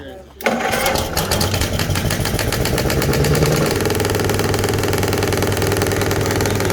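A small two-cylinder starter motor cranks a railway diesel engine, coming in abruptly and settling into a loud, steady mechanical chugging drone with a rhythmic knocking pulse, heard up close.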